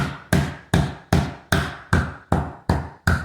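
Eight sharp, heavy knocks land at an even pace, each a mallet striking a metal coconut opener blade lodged in a Thai coconut, close and fairly loud with quick decay.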